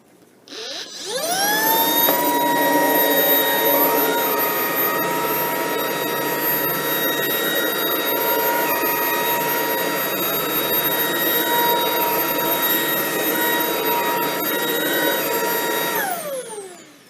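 A Shark IONFlex cordless vacuum cleaner runs steadily on low power in carpet mode, a loud continuous whine with a strong motor tone that spins up at the start, holds for about fifteen seconds, then winds down.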